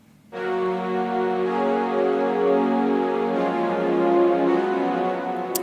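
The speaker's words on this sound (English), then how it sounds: "So for the backing pad," A rich, buzzy synth pad built from detuned saw waves on 11 voices swells in and sustains chords for several seconds, giving a wide shimmering texture, with no talking.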